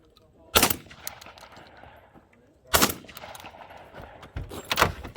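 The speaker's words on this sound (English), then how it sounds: "Gunfire." Three loud, sharp shotgun blasts from a VR80 semi-automatic shotgun ring out at roughly two-second intervals, each followed by a brief echoing decay, with faint background shuffling between shots.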